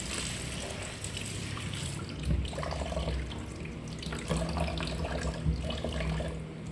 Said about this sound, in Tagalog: Heto, hugasan natin yung malunggay at magluluto tayo ng dinengdeng.